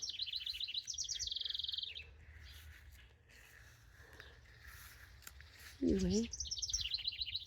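Small bird chirping in a garden, bright rapid twittering phrases at the start and again at the end, with a quiet gap and a louder burst in between; a voice speaks briefly.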